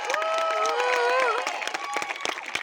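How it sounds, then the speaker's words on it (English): Clapping and cheering rise from an audience at a literature festival talk in Bhopal as an Indian pop singer is welcomed. Sustained musical tones ring over the crowd noise, which thins into scattered claps near the end. "please give the largest round of applause for the queen of Indian pop"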